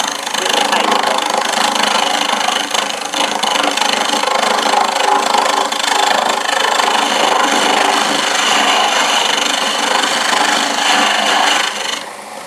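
Small taper being turned on a wood lathe on a hammer shaft held only by a screw, giving a steady, close, continuous scraping and rasping cut with a hum behind it that runs evenly and then eases off near the end.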